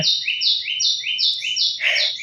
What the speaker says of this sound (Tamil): எவ்வளோ அழகான இது என்ன குயிலா என்ன பறவைன்னு தெரியல